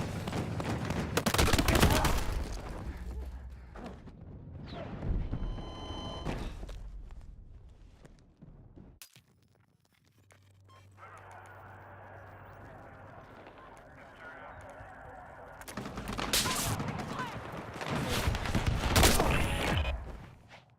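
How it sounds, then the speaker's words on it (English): Gunfire in the Battlefield 6 open beta, with loud bursts of rapid shots at the start and again near the end, separated by a quieter stretch of distant battle noise. "Fatal sniper shot on the respawn"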